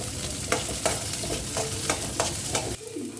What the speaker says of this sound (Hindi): तो यहाँ पे 5 हरी मिर्च ली है, और सूखी लाल मिर्च। अभी इसे ना हल्का सा भून लेते हैं।